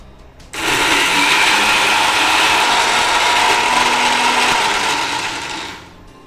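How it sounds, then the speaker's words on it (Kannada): A kitchen mixer grinder runs loud and steady, grinding a chutney made from elephant foot yam, with a high whirring motor roar that starts abruptly and winds down near the end, no voices over it. "ಸೊ ಇದನ್ನು ಗ್ರೈಂಡ್ ಮಾಡಿ ಬೇಕಾದ್ರೆ ಗ್ರೈಂಡ್ ಮಾಡುವಾಗ ಮತ್ತೆ ಬೇಕಾದ್ರೆ ಹಾಕಬಹುದಲ್ಲ?"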